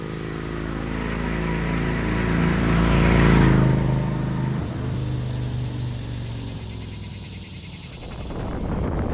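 Honda VT600 motorcycle passing by on a back road in West Georgia, its engine hum swelling as it nears and then fading away, heard alone without speech.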